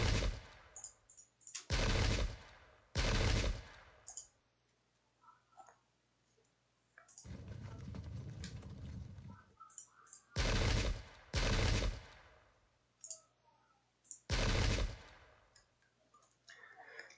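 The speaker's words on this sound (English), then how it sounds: "Did not even realize this cavalry could shoot." Cavalry firing in the Pike and Shot strategy game, Sedgemoor 1685 battle: several loud sharp volleys in clusters separated by quiet gaps, with a longer rumbling burst in the middle, no talking.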